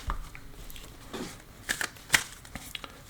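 Tarot cards being shuffled, heard alone as a soft, irregular run of papery riffles and flicks with a few sharper snaps, fairly close and quiet.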